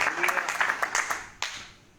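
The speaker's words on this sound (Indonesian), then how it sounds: "Kita kasih tepuk tangan mempermuliakan." A church congregation claps and applauds for about two seconds during a sermon, with a sharp burst near the end, while some voices carry underneath.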